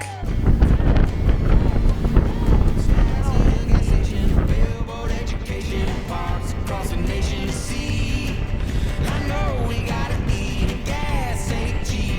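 Strong wind buffets the microphone over a droning boat engine on a river ride on the Oregon coast, steady and loud, with faint voices mixed in.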